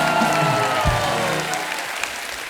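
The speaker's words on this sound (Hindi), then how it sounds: "एक बार जोरदार तालियां हो जाएं पंजाब के शेर के लिए।" A television comedy show's studio audience bursts into loud, sustained applause with a dense wall of clapping close by that fades slightly over its short span.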